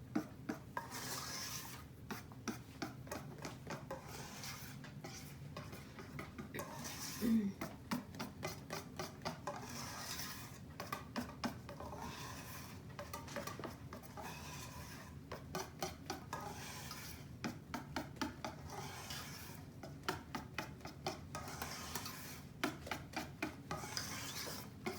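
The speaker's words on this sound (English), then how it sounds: "Just take a whisk and incorporate it." A whisk works through hot chocolate cake batter in a bowl, a quiet repetitive scraping and rubbing rhythm with light clinks against the sides, continuing steadily without talk.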